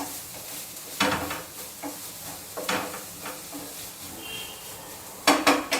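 Sushi ingredients, including carrot, being stirred and mixed in a bowl, with a few distinct scraping, clinking strokes of a utensil against the container over soft background hiss.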